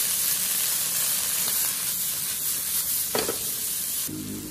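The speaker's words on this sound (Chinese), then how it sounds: "甜豆、胡萝卜、玉米粒倒进来，继续给它翻炒几下" Dried shrimp, sugar snap peas, carrot and corn kernels stir-fry in a wok, making a dense continuous sizzle and hiss close up, with a few brief scraping clanks of the spatula.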